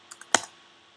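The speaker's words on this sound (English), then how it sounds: "So whatever I am typing here," A computer keyboard tapped a few times in quick succession: two light clicks followed by a louder cluster of keystrokes, close and clear in an otherwise quiet room.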